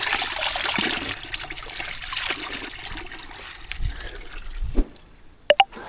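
Cold water from a mountain spring at a restaurant near Qəmərvan, Qəbələ, trickles and splashes in a steady close stream, with a few louder gurgles and two sharp knocks near the end.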